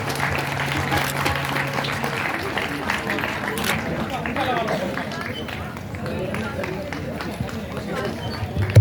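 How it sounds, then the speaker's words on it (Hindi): Applause from an audience at a ceremony marking 150 years of the national song Vande Mataram, as a memento is presented to the chief guest; steady, dense clapping mixed with crowd murmur and a brief low hum early on. "आप जोरदार तालियां बजाते रहिए"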